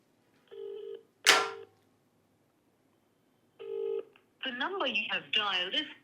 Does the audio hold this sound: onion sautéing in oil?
no